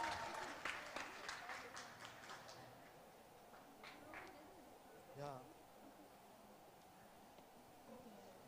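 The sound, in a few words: audience applause at a quiz competition prize announcement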